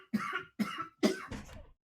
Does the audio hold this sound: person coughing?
yes